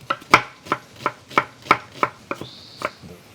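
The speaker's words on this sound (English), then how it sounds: "Prep our onion." An onion is chopped with a knife on a cutting board in about ten crisp, evenly spaced strokes, close and clear with no talking.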